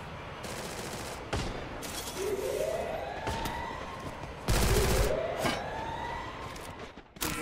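Bursts of gunfire ring out in a battle royale video game tournament match, sharp crack-like shots repeating in clusters with rising whistling streaks between them, loud and close over a dense game soundscape.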